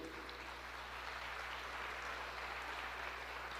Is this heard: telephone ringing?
no